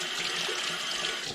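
Hot water running steadily from a utility sink tap, a continuous close hiss of flowing water with no voices.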